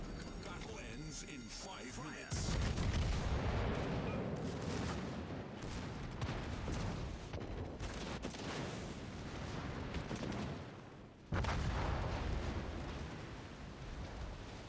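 Warship guns fire during a naval battle in a video game. Heavy booming rumbles swell and fade across the scene with a sharp blast near the end, under a player's talk.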